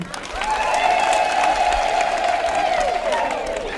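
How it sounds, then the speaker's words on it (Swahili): A church congregation applauding during a Solemnity of the Annunciation Mass in Kayole, Naivasha, loud, dense clapping joined by a long, sustained high vocal whoop or ululation. "Tuwashangilia kwa makofi"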